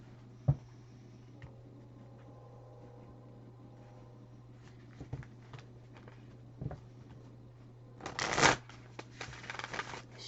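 Playing cards are shuffled, a quick riffling burst near the end after a stretch of low hum and a few soft taps and rustles, close by and with no voice.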